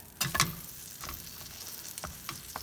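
Stacked tortilla quesadilla crisping in a pan, a soft steady sizzle with a couple of brief scraping shuffles as it is moved, close and fairly quiet, no talk.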